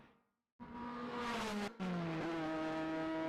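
A modified Ford race car screams through the Knockhill chicane, the engine note rising loud and close after a moment of near-silence, shifting pitch as it brakes and accelerates through, with a brief cut mid-pass.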